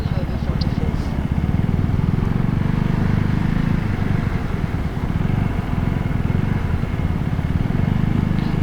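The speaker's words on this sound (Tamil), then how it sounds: "ஒரு 300 RPMல ரைஸ் பண்ண மாதிரியே வச்சுருக்கேன் ஆக்சிலேட்டரை." A KTM Duke 390 motorcycle engine holds a steady throttle on an off-road stretch of a Chennai-to-Ladakh ride, giving a loud, continuous, even drone with a deep pulsing rumble and no change in pitch throughout.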